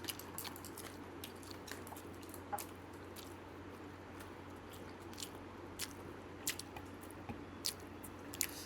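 Paratha being chewed up close, with soft irregular crunches, squishes and bites scattered over a faint, quiet background and no talking.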